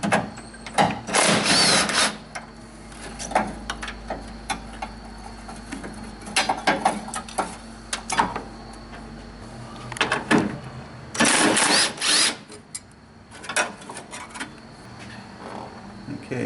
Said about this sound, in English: Next we're going to take and remove the retaining brackets. There's only 2 more 10 millimeters remaining.